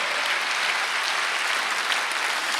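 Church congregation at a Korean Sunday worship service clapping together in steady, dense applause that fills the room, heard alone with no talk over it.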